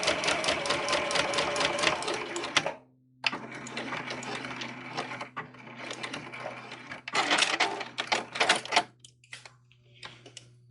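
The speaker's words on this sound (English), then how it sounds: "I'm just going to sew straight across, but I'm going to back stitch at the start and the stop." A sewing machine sews straight across the opening of a lined zipper pouch in several close, loud bursts with brief pauses, backstitching at the start and the stop, over a faint steady hum.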